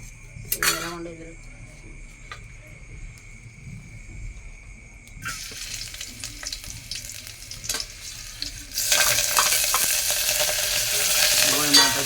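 Tempering spices fry in hot oil for a fish rasam, a steady crackling sizzle that grows louder and denser toward the end, with scattered clinks of utensils and a brief voice near the start.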